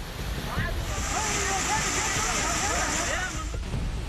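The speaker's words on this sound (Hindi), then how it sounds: "घर को बहा ले जाने वाली लहरें" Surging flood water and waves in heavy monsoon rain, a steady loud rushing wash with broad noise throughout, whistling tones over it.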